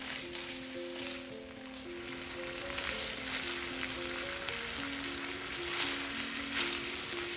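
Chicken mince frying hard on high heat in a pan with a splash of water, a steady loud sizzle and crackle throughout with no voices.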